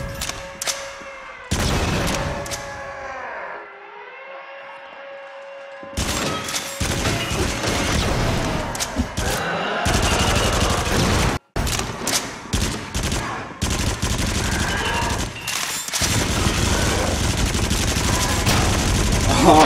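Gunfire in the horror shooter game Until Dawn: Rush of Blood: after a quieter opening, dense volleys of loud, rapid shots ring out almost continuously, broken by one brief gap, with a voice heard at times.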